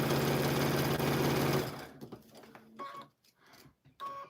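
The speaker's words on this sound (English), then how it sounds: "Gonna give it a couple of stitches" A sewing machine whirs steadily while stitching quilt blocks, then stops. Scattered clicks and handling noises follow, along with a couple of short tonal beeps.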